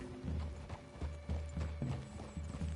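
Horses in the video game Red Dead Redemption 2 clip-clop at a steady walking pace, hooves falling in an even repeating rhythm, moderately quiet with no talk.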